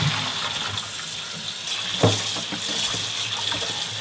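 Tap water runs steadily into a sink as blanched cabbage is rinsed for soybean paste soup, a continuous close splashing hiss with one brief louder splash partway through.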